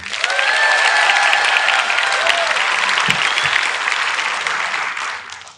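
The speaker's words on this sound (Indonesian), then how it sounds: "Tepuk tangan dulu." University students in a large hall applaud, loud, sustained clapping from a big crowd that fades out at the end, with faint whoops mixed in.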